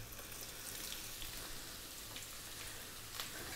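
Onion dropped into hot oil over high heat with galangal and lemongrass, a steady, faint, even sizzle with scattered small pops throughout.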